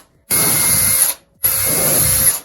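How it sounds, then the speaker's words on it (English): A power drill with a 3/16 bit whines through lath-backed plaster in two loud, sustained bursts of about a second each, separated by a short pause. "So every other lath, I'm going to drill a hole."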